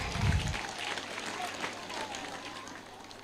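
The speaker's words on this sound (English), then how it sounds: "Can we clap for ourselves?" An audience at a school prize-giving day claps for itself, a scattered crowd applause at low-to-moderate volume with a low thump near the start and background murmur.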